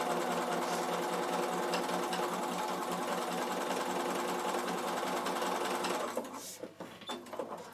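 A Bernina sewing machine stitches a row on a linen cushion, running at a steady fast rhythmic whir that stops near the end, followed by a few soft handling clicks.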